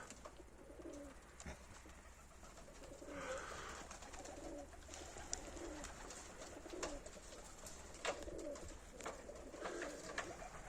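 Soft, repeated cooing of pigeons, several low burbling calls spaced through the clip, with faint clicks and flutters in a quiet setting.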